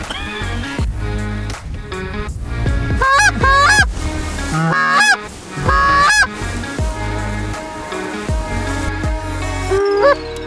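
Canada geese honk loudly and repeatedly during a hunt in Montana, a dense chorus of many birds calling close by with overlapping, rising and falling honks throughout.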